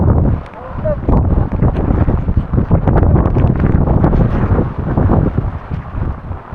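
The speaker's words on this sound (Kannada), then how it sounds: "ಭಾರಿ ಗಾಳಿ" Strong wind buffets the microphone on a hilltop during a rainy trek in the Western Ghats, a loud, gusting, rumbling roar that surges and dips throughout.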